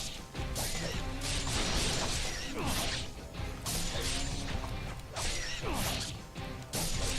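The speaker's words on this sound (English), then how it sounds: "I shot a glass window with my ninja gun and it didn't break." Gunfire from a ninja's gun strikes a bulletproof glass window in the action game Ninja Gaiden Sigma 2, with loud repeated crashing impacts and mechanical clatter layered with whooshes throughout.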